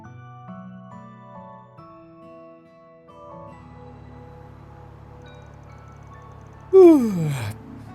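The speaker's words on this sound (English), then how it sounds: "didn't mean to yawn so loud" A game character in Trails through Daybreak lets out a loud yawn near the end, a rising then falling drawn-out vocal breath over quiet background music.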